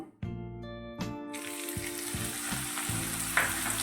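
Asafoetida and chopped green chillies hit hot oil with a sudden burst of loud frying that settles into a steady crackling sizzle, while clinking and ringing tones from a utensil tapping metal sound in the first moments.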